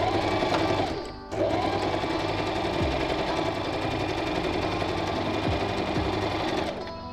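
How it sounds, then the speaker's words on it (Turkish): A Singer M3205 sewing machine stitches a folded fabric hem in a steady, continuous mechanical whir lasting several seconds, with a brief dip near the start and a taper at the end; no one speaks. "Kumaşımı yerleştiriyorum ve çubuğumu getirip kıvırdığım kenara sabitledikten sonra dikişimi yapıyorum"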